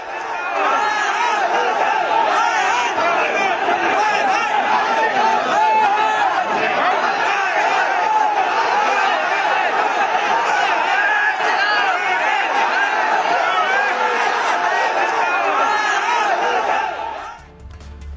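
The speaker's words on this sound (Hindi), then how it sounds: "दिखाइए जरा तस्वीर, कैसे पुलिस और भीड़ में जबरदस्त बहस हुई है।" A crowd arguing heatedly with police, many overlapping raised voices and shouts forming a dense continuous din that stays loud throughout before cutting off near the end.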